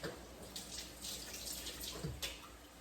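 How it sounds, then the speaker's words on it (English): Tap water runs steadily over a boiled egg as it is rinsed in a kitchen sink, a faint, soft, continuous splashing with no talk. "I'm gonna give this one a rinse."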